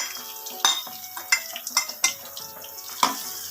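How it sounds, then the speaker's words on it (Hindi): Whole onions frying for beef haleem after whole spices are roasted, stirred in a pot with a string of close, sharp spoon-against-pan scrapes and clinks over a soft steady sizzle, no voices. "प्याज को हमने इतना फ्राई करना है, बस इनका कलर चेंज होना चाहिए, हल्का सा सुनहरा कलर होना चाहिए।"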